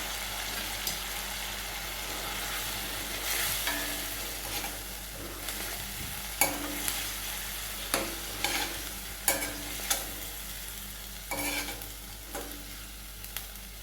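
Food is stirred in a hot frying pan while cooking, with a steady background sizzle and repeated close scraping and clinking of a spoon against the pan, with no talking.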